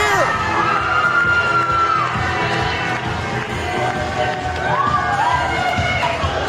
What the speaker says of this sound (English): she will no doubt have an electric crowd here at the Casa Loma Ballroom